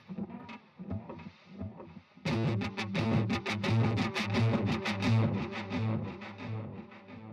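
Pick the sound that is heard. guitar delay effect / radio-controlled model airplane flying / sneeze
guitar delay effect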